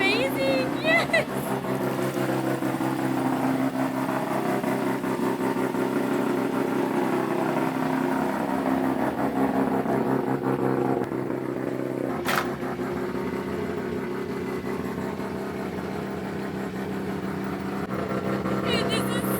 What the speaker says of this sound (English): This car is so loud, it's amazing, yes!